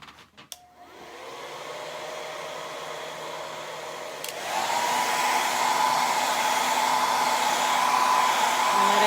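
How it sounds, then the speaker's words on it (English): A hair dryer clicks on and blows with a steady, whirring whoosh, then jumps to a louder, higher setting and keeps running close by. "So we will dry that here with the hair dryer."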